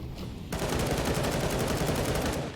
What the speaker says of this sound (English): Sprays through the wood panel in case Mad Lions are trying to make a fast play towards the short B position